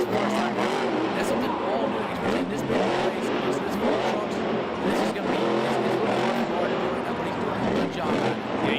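A Marvel's The Amazing Spider-Man monster truck roars through a Monster Jam freestyle run on a flat tire, its engine revving hard and loud, with tires scrubbing and crowd-arena noise filling the whole stretch.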